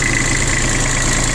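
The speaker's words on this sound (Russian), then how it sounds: "Под капотом у данного трактора трехцилиндровый дизельный двигатель." Three-cylinder Kubota diesel in a Hinomoto CX16 four-wheel-drive tractor idling steadily, loud and close with a constant low rumble and no talk.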